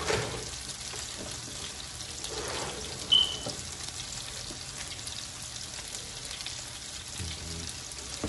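A steady, faint sizzle of marinade hitting oxtails frying in hot oil, a soft continuous crackle with a brief clink partway through and no voices.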